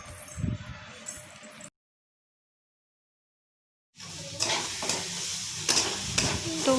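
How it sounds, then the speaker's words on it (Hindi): Mixed vegetables stir-fried in a pan for a healthy children's dish, sizzling and scraping close by, broken by a silent gap of about two seconds before the frying and stirring resume more loudly. "तो बस सबको मिला करके और अच्छे से भून लेना है"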